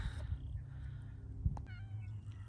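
A cat meows in a vegetable garden, one short close meow standing out over faint outdoor background noise.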